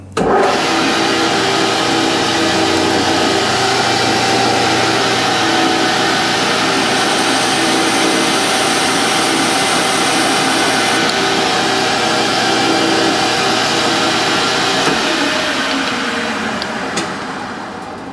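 A metal lathe turning 12L14 steel at 720 rpm gives a loud, steady broadband whir and hum that holds for the whole stretch and winds down slightly near the end, with no voices.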